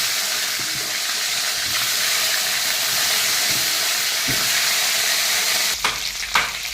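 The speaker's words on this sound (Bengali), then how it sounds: "ফুলকপিটা আমি এক্সট্রা করে ভেজে নেবো আলাদা করে।" Cauliflower frying in a pan gives off a loud, continuous hissing sizzle with no talking, followed near the end by a few brief scraping stirs.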